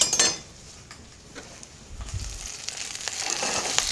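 Pork chops sizzling in a pot with shallots and Swiss chard, a soft steady hiss of frying close by, broken by clinks of a utensil against the pot and a few crinkling stirs.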